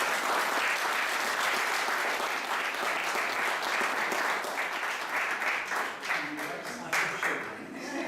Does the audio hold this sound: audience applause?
yes